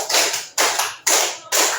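A group claps in unison in a steady pulse, four sharp, full bursts evenly spaced about half a second apart, close and loud with nothing else around.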